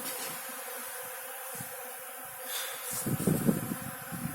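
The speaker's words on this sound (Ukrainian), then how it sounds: "Навіть дуже багато бджіл лазить по землі." A steady honeybee buzz hums faintly throughout near the ground, swelling louder near the end as bees seem to come close.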